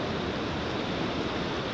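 Water pours over the rocky Falls of the Ohio on the Ohio River, a steady, even broadband rush with no breaks, moderately loud and unaccompanied by voices.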